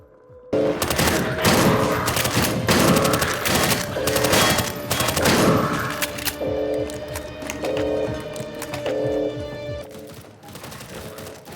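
A shotgun fires repeatedly in Swelter, a Half-Life 2 mod: loud booming blasts and clatter fill the first half, then lighter mechanical clacks sit over a steady tonal game soundtrack.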